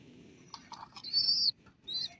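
A red line-bred pet bird gives a few short chirps followed by two bright whistled notes, close and clear with no talking.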